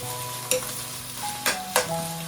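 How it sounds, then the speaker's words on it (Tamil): Coriander leaves sautéing in a pan give a steady low sizzle, with a few brief stirring scrapes rising over it. "இந்த கொத்தமல்லியை போட்டு ஒரு கொஞ்சம் வதங்க விடுங்க"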